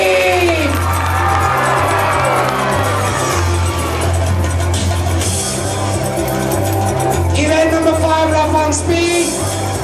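A sports day crowd cheers and screams continuously, loud whoops and children's shouts layered over a steady beat of music throughout.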